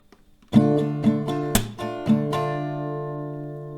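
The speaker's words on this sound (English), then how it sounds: "I will play the full strumming round for you first" Acoustic guitar strummed in a short down-up pattern with a sharp clap in the middle, ringing chords close and clear, no talking.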